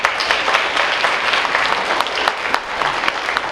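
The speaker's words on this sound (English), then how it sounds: "let's give him a nice round of applause" Dense crowd applause at a high school athletic awards night, many hands clapping loudly and steadily in a close, continuous roar with individual sharp claps standing out.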